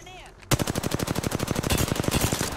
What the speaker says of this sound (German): Wir schießen hier rum.